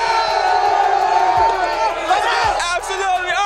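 A loud crowd cheers and whoops at a high school football game, a dense, continuous roar of many voices filling the whole stretch.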